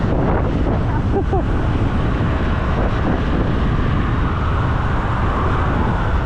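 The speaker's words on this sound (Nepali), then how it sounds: "कत्रो हावा आमा 50-55 की स्पिडमा लडाउनै खोज्छ" Strong wind gusting at around 50-55 speed roars loudly and continuously across the microphone while travelling near Kathmandu, with a faint murmur of traffic beneath.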